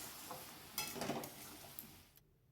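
Fish heads dropped into a frying pan of hot oil with salt and turmeric, a faint sizzle that briefly swells with a stirring clatter before fading out, quiet and close with no talking.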